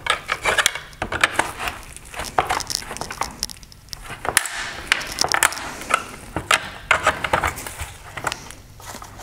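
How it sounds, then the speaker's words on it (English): Small pocket screwdriver prying and pushing up on a plastic headlight mounting bracket of a 2015-2017 VW Golf GTI xenon headlight, with close, irregular plastic clicks, creaks and scraping taps throughout, no talking. "we're simply going to take a small pocket screwdriver and push push up on the bracket"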